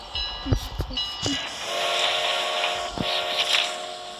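A train rolls by with a sustained rumbling roar and several sharp whistle-like toots near the start, followed by a long tonal horn-like hum, loud and fairly close, with no talk over it.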